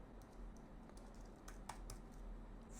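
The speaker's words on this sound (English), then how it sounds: "So open your terminal and type Python" Light typing on a computer keyboard in a terminal, soft scattered key taps at an uneven rhythm, faint and close, with no voice.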